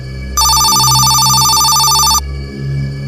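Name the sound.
mobile phone ringing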